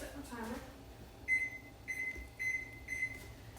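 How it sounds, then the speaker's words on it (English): A kitchen timer is set while puff pastry chills, followed by four short, evenly spaced electronic beeps, close and clear. A brief voice is heard just before the beeps. "Chill for 30 minutes, so I'll set my timer."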